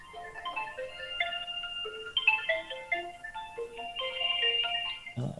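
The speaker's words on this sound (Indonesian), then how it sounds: "tadi terputus ada telepon." Melodic electronic telephone ringtone sounding during an online talk, a quick sequence of bright tones repeating its tune for several seconds at moderate level, ending with a brief thump.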